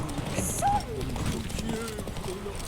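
Roach, a horse in The Witcher 3, gallops with a steady clip-clop of hooves, mid-distance, under game music and ambient noise.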